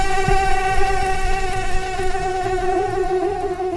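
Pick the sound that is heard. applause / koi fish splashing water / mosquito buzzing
mosquito buzzing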